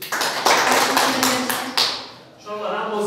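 Applause for olympiad winners at a school ceremony, a short burst of many hands clapping that fades out, followed by a voice speaking.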